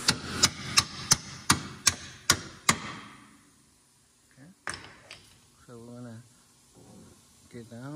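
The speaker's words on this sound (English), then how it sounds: "with the hammer we're gonna hit it right here" Seven sharp metallic hammer blows strike a bolt on a Mitsubishi Outlander rear strut in a steady rhythm, followed by a pause, a single clank and someone talking.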